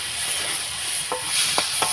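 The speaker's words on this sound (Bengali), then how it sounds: "এটা গোবিন্দভোগ চাল, 250। এটা ভালো করে একটু ভেজে নেব।" Gobindobhog rice frying in a pan for payesh, giving a steady soft hiss with a few faint scraping stirs near the end.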